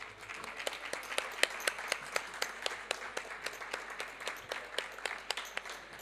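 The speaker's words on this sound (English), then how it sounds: "A big round of applause for these guys." A small audience at a Business Sweden COP27 panel session gives a faint round of applause, a handful of distinct, fairly slow claps spread evenly, quiet and somewhat distant in the room.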